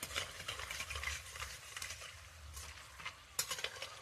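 Tomato chips fry in oil over a lowered flame and are stirred, giving a quiet bubbling sizzle with repeated scraping stirs and a sharper clatter near the end; nobody talks.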